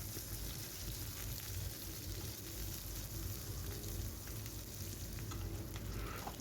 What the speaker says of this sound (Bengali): তেলের মধ্যে দিয়ে দেওয়ার পরে বেশ কিছুক্ষণ ধরে সময় নিয়ে এটাকে ভেজে নেব পেঁয়াজটা